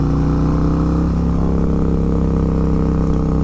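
Harley-Davidson M8 bagger fitted with an S&S Sidewinder 2-into-1 exhaust, a deep, steady, loud low rumble close by that holds through the short stretch with no talking over it.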